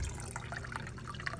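Water trickling and dripping as it drains from the lines of a raised machine, a faint, steady wet patter with small drips and no voices.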